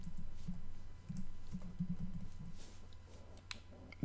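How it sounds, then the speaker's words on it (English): Rapid computer keyboard typing during a Resident Evil 0 live stream, a steady patter of close clicks with soft low game ambience underneath and no talking. "just typing a message here"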